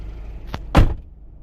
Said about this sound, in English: And when you shut the door,